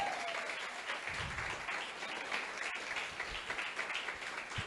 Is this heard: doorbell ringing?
no